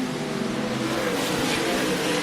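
SMART Modified race cars roar around Carteret County Speedway, a dense, steady engine drone filling the whole stretch with no voices over it.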